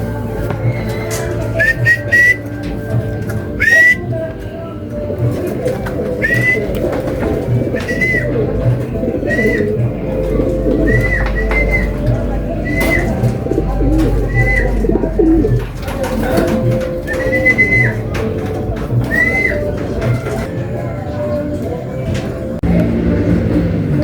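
Racing pigeons coo repeatedly in soft, rolling calls at regular intervals over a busy background murmur and faint voices, at a pigeon race.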